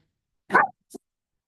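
A dog barks twice indoors during a live singing masterclass session, a fuller bark followed by a shorter, quieter one a moment later, with silence around them.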